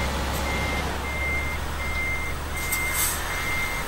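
Truck reversing beeps from Euro Truck Simulator 2, a steady run of evenly spaced electronic beeps over constant engine hum, with no talking.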